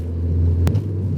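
Honda Prelude driving in first gear, a steady low engine rumble heard from inside the cabin, loud and continuous with a brief click partway through.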